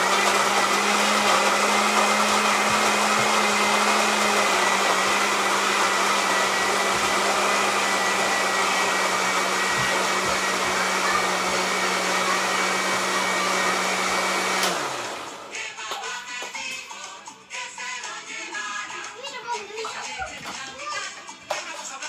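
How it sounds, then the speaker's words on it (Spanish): An electric grinder or blender whirs loudly and steadily while grinding seasoning with oil for a pork shoulder marinade, then cuts off, leaving a short stretch of faint handling noise and speech. "Vamos a moler esto para condimentar el pernil."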